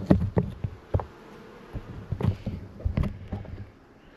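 Honey bees buzz loudly and close around open hives during an inspection, a dense insect drone with sharp bursts as individual bees fly past the microphone, and no talking.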